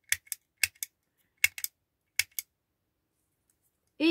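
Keys pressed on a small handheld label maker, a handful of crisp plastic clicks in quick pairs spaced across a quiet room, ending with a short motorised whir as the label feeds out.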